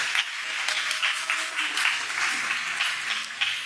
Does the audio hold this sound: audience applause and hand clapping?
yes